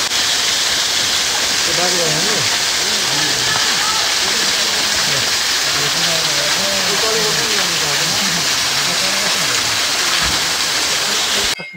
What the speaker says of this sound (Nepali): धामको झरनामा आएको छौँ। झरनामा चाहिँ एकदमै राम्रो मनमोहक झरना छ।